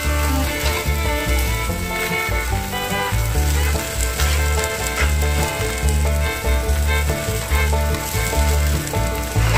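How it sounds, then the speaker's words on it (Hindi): Spring onion and potatoes fry in a pan with a loud, continuous sizzle, overlaid by steady scraping and stirring strokes and a bright crackle throughout, with no voices. "अभी मैं स्प्रिंग ऑनियन इसके अंदर दे दूँगी।"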